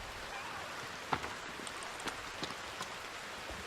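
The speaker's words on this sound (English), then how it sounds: "Hey, there's the rain." Rain falls in the survival video game The Forest as a steady hiss, with a few sharper drop ticks scattered through it.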